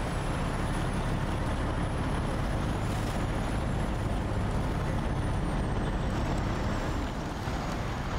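A heavy truck engine labours loudly and continuously in high gear in SnowRunner, a dense unbroken roar with a faint high whine over it.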